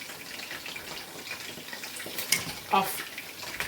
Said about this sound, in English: fry my second batch.